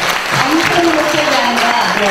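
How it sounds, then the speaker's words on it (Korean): Audience applause at a book concert in Jeju, a steady broad wash of clapping throughout, with a voice speaking over it. "이렇게 박수 한번 보내주시면"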